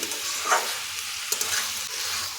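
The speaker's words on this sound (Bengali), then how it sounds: "টমেটোর সঙ্গে খুব ভালোভাবে আলুটা ভেজে নেব।" Potatoes fry with tomatoes in a pan with a continuous close hissing sizzle, marked by a couple of brief stirring clicks and scrapes.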